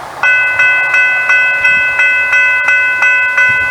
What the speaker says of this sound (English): that ding ding ding ding ding ding ding means that, well, it's pretty simple. The train's coming